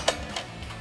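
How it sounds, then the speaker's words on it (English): 13mm ratchet wrench tightening an upper combo bolt on a Jeep Gladiator running board: a few quick, faint ratcheting clicks close by. "tighten down this upper combo bolt for our step with our 13mm ratchet"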